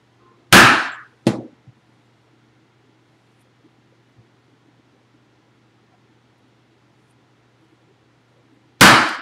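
A metal punch hammered through a leather bag strap gives three sharp, loud strikes, two close together at the start and one at the end, with near silence between.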